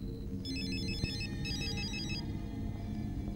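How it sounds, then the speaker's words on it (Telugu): An electronic telephone ringtone plays in two quick repeating melodic bursts over a low background hum, fairly close and clear. "ఏ, రింగ్ అవుతుందా?"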